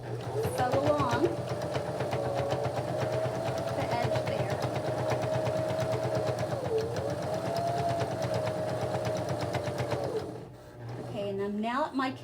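A sewing machine stitches along the folded edge of a fabric gift bag in a steady, close, rapid mechanical whir that runs for about ten seconds, then stops and leaves a short quieter tail.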